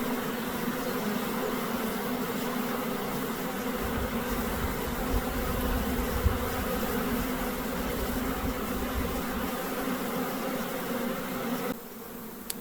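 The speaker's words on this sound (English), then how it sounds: "They seem to be fanning the pheromone to each other." Honey bee swarm on a capture net, buzzing and fanning in a dense, continuous drone that stays close and steady throughout, with no talking.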